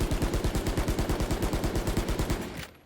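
Bulldog rifle in the video game Valorant firing in full-automatic spray: a rapid, evenly spaced burst of about twenty punchy shots, loud and close, cutting off abruptly at the end.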